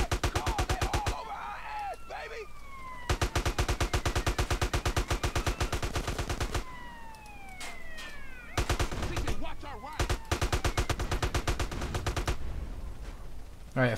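Rapid AK-47 automatic gunfire in GTA San Andreas, loud sustained bursts of dense regular shots broken by short pauses, with whistling and ricochet-like tones and a voice underneath.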